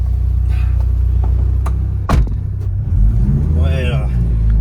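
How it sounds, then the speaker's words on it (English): A Mitsubishi Evo V RS engine drones loud and steady from inside the cabin, a heavy low rumble that swells as it revs, with a brief voice near the end. "One thing you notice instantly about this car compared to all the others is just how insanely loud this car is from the inside"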